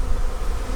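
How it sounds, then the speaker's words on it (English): Honey bees buzzing in a crowded hive in a Demaree bee yard, a steady low hum filling the short stretch without a break, close and continuous, with no voices over it. "we have a lot of bees here"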